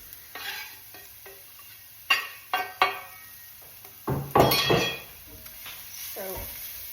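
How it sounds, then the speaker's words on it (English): Grated carrots and onions fry in a pan, a steady sizzle broken by several sharp stirring scrapes and clinks of a utensil against the pan, with a louder burst of sizzling midway. "So we'll just fry all that off for a couple of minutes."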